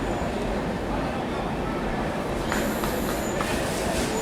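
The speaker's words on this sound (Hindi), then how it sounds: "देखिए भाई, सूरत से डिपार्चर हमारी स्वराज फास्ट एक्सप्रेस।" Swaraj Fast Express train pulling out of Surat station, a steady broad rumble of rolling rail wagons with faint wheel and track clatter building slightly toward the end, heard from on board.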